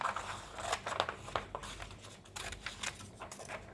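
Scissors cut through paper for a pop-up tower mechanism, making a close series of short, crisp snips in an uneven rhythm, with no talking.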